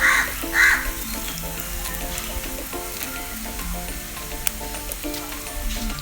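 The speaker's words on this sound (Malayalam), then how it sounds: "എണ്ണയ്ക്കകത്തോട്ട് കടുക് പൊടിച്ച് ചേർക്കണം." Crushed mustard seed sizzles in hot oil for a Kerala-style mango pickle, a continuous close crackle. A couple of faint bird calls come at the start.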